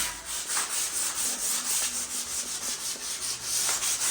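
A power sander scrubs across knotty wood in a rapid rhythmic back-and-forth rasp, close and steady throughout with slight pulsing.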